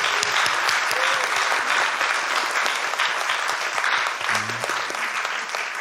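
A church congregation applauding during a Sunday service to welcome the youth group, with dense, sustained clapping from many hands filling the room, steady and loud before tapering slightly near the end.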